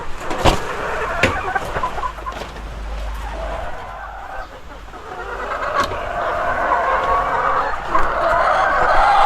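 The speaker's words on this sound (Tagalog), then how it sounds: "Puntahan natin tong mga manok ko na decal white." A busy flock of white chickens cluck and call, with scattered sharp knocks and a steady background rumble throughout.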